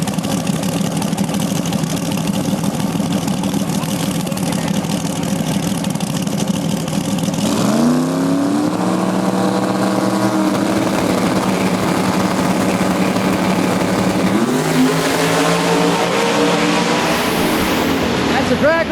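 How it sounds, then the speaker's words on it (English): Small tire drag race cars at a raceway roar down the strip with loud, sustained engine noise, with rising revs as they accelerate and another surge of acceleration later, while a commentator talks over it. "That's a drag race right there."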